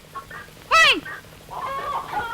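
Chickens cluck near a rice-grain drying spot in a 1995 Malayalam film scene, giving one loud rising squawk followed by softer, quick clucks over a faint background hum.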